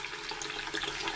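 Tap water runs steadily into a sink during model-kit paint prep, a continuous broadband splash and hiss with no talk.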